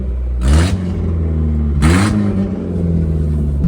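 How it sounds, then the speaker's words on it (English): A car with a loud exhaust revs hard twice, each sharp roaring burst rising and falling back to a deep rumbling idle, close by and with no talking. "But this thing is super loud with the exhaust."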